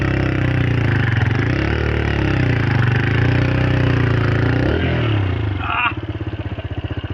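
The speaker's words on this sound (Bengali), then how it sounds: "বালি বাইক যাচ্ছে না" A motorcycle engine labours at steady mid revs while the bike struggles through loose sand on an island beach, dropping to a rougher, pulsing idle near the end, with a voice speaking over it.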